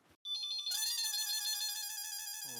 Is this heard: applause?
no